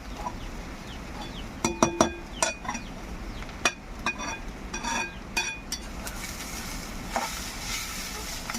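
A spoon scrapes and knocks against a pan while a wild leafy vegetable bhaji with onions is stirred, with sharp irregular clinks over a soft steady sizzle and background noise.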